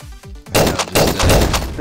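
Rapid bursts of gunfire from a player shooting a zombie in a dance-themed zombie video game, loud and dense after a brief quieter opening, with repeated overlapping shots.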